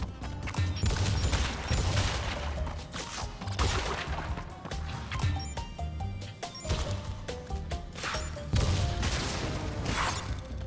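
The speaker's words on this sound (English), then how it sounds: "This, like, fruit wumpa bazooka. It's insane, mate." Wumpa fruit bazooka in Crash Bandicoot: Warped (N. Sane Trilogy) fires in dense, loud bursts of blasts and crashes, thumping repeatedly over a busy game soundtrack with no talking.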